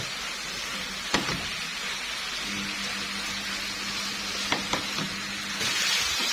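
Liver with spices and instant chicken stock being stirred in a frying pan, a constant hiss of sizzling with a few sharp clinks of the spoon against the pan, near and alone.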